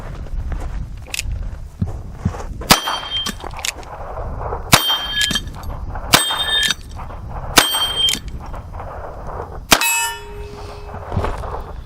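A Chiappa 1873-22 revolver fires at a range, each shot followed by a ringing clang as steel plates are hit, about half a dozen spaced shots over continuous outdoor background noise.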